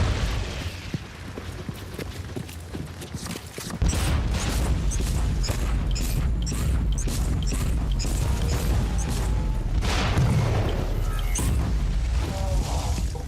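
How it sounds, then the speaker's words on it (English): A gun turret fires in the Warhammer 40K: Inquisitor - Martyr video game, producing a dense, continuous barrage of booming shots and crashing impacts that swells louder partway through and stays heavy to the end. "Is that yep, that's a turret."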